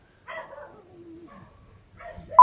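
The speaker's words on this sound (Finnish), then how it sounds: "Helvitun koirat." Dogs bark in a hotel room in Thailand: a couple of short, fairly close yelps and whining barks with brief gaps, the last one louder and sharper.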